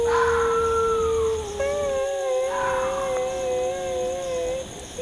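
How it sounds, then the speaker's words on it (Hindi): An eerie, drawn-out wail rises and falls in long sustained tones over a night backdrop with steady high-pitched insect-like chirping, loud and close, with no talking. "ये रोने की आवाज़ कहाँ से आ रही है?"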